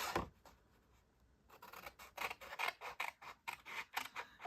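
Scissors cut through cardstock up to a score line in a papercraft session. After a pause, a series of close, crisp snips follows one another in a quick, regular rhythm.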